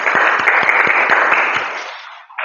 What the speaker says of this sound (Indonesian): Kasih aplaus untuk Sulaiman.